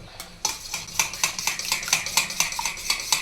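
A spoon stirs sago porridge in a metal pot, scraping and clinking against the sides in a steady run of quick, close strokes, with no voices.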